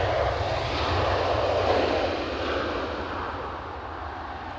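An airplane takes off at Edinburgh Airport on a windy day, its engine roar loud and steady as it climbs past, swelling slightly then easing, with no talk.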